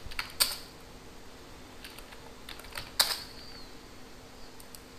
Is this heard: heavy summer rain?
no